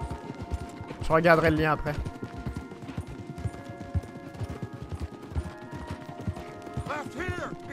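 Horse hooves clip-clopping at a gallop in Red Dead Redemption 2, a steady low patter running under game music throughout, while someone talks over it in French twice.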